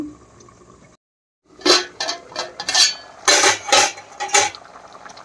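A metal lid clatters onto a pot of simmering small fish curry, with several sharp clinks and scrapes of metal on metal after a brief silence, close and fairly loud.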